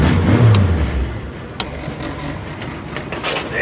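A Ford Falcon car engine runs close by with a steady mid-range mechanical hum, a low rumble rising briefly at the start, and a few sharp clicks and knocks over the idle.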